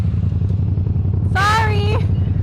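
A motorcycle engine runs with a steady, loud low rumble throughout as the rider eases out the clutch, and a person briefly speaks over it.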